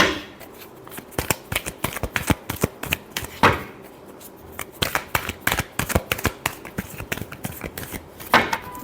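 Tarot cards being shuffled for an Aries weekly reading, a dense run of crisp riffling bursts and slaps that repeat steadily and close up for the whole stretch, with no talking.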